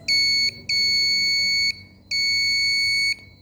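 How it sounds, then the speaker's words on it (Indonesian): An automatic parking system's buzzer warning of a vehicle closer than 5 cm, three loud, piercing, steady electronic beeps of about one second each, separated by short gaps, near and clear. "maka buzzer akan berbunyi untuk menandakan bahwa kendaraan itu"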